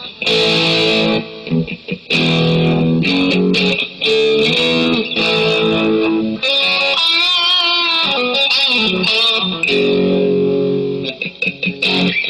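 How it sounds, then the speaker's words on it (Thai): An electric guitar through an overdrive effect plays chords and sustained notes, gritty and loud, with brief pauses between phrases. "เสียงแตกเสียงโอเวอร์ไดนะครับ"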